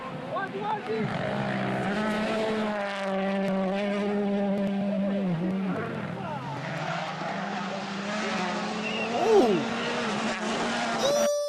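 A rally car engine revs and whines loudly through a drift at Safari Rally Kenya 2022, tires hissing, with excited voices shouting over it throughout.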